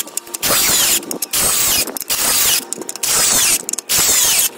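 A Parkside cordless drill driver from Lidl drives a lag screw in four loud, sustained bursts of whirring and ratcheting, each a second or so long and separated by brief pauses.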